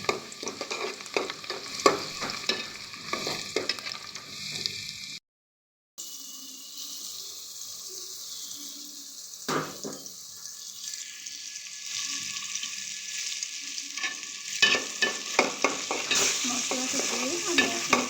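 Onions frying in a pan for a beef curry with chana dal, stirred often so a spatula scrapes and clatters over a steady sizzle. The sound cuts out briefly partway through, and no one speaks.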